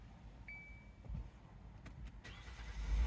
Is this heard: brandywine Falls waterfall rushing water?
no